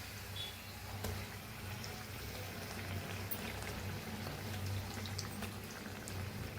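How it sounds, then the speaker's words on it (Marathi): Puris (matar ke puri, pea-stuffed fried bread) deep-frying in hot oil, a steady soft bubbling hiss running evenly throughout with faint crackles and no talking. "आता दोन्ही साईडला छान असं तळून घेऊया"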